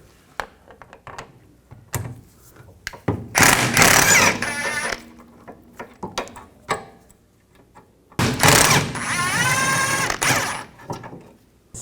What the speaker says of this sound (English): Now we need to take off these two caliper bolts, caliper bracket bolts.